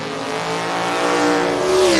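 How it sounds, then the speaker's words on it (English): A Camaro drag car screams down the track, its engine loud and near, pitch climbing steadily through a brief, unbroken burst. "Here comes the Camaro trying to close in and not going to get there."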